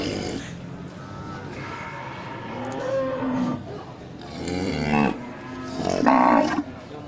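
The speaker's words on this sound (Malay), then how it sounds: "Ya, ini ada beberapa ekor sapi" Breeding cows on an Indonesian cattle farm moo several times, low drawn-out calls rising near the end, close by with faint background noise and no clear speech.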